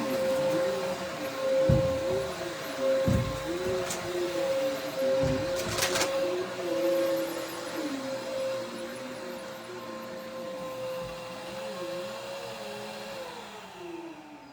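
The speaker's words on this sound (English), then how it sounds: "I'm going to shampoo my carpet in here." A carpet shampooer run over an indoor carpet, a steady close motor whine held throughout with a few brief bumps and surges as the machine is pushed back and forth, tapering off at the end.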